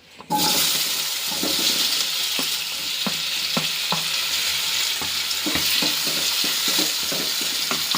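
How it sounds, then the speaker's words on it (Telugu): Tomato pieces for chutney frying in hot oil in a pan, a steady loud sizzle running throughout with occasional stirring clicks and scrapes, no voices. "ఇప్పుడు అదే నూనెలో మళ్ళీ టమాటా ముక్కలు వేసుకుందాం."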